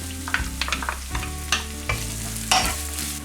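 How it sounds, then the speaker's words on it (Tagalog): Onions fry in a hot pan with a soft continuous sizzle, broken by several quick stirring scrapes and clatters of a utensil, close and fairly loud with no talking. "Let's fry the onions for about 5 seconds."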